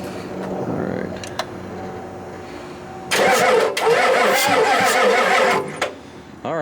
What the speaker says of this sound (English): Let's kind of go bump the starter solenoid. See if we have any luck.